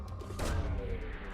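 Probe launch in Mass Effect 2 while scanning a planet: a loud, sustained whoosh and rumble with a sharp burst of energy near the start, heavy low-end throughout, no voices.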